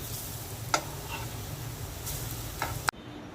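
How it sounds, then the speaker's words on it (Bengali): Onion fritters (piyaju) sizzle steadily in hot frying oil with a low, even hiss, broken by a few sharp clinks as they are turned, before the sound cuts off abruptly. "পেঁয়াজটা উল্টে দিচ্ছি"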